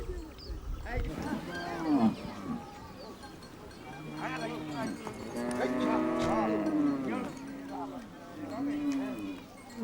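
Cattle in an African herding village moo and low repeatedly, several deep drawn-out calls overlapping at moderate distance, with some bleating among them.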